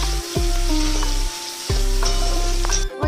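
Tomato dropped into a pan of well-browned fried onion, loud sizzling with sharp bursts as pieces hit the hot oil, plus clanking and scraping of a utensil against the pan.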